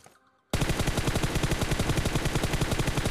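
Rapid automatic gunfire bursts out after a half-second of near silence in a mobile battle royale shooter, a loud, even, machine-gun-like rattle that continues to the end.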